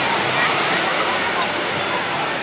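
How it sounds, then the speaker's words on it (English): A large water park tipping bucket dumps its load, a loud continuous roar of cascading water and splashing that fills the whole stretch at steady volume, with crowd voices faintly mixed in. "Got a big bucket that dumps water on everybody"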